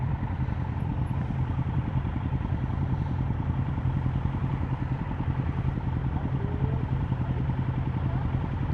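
Motorcycle engines on a road, a steady close rumble holding evenly through the whole stretch, with no speech heard.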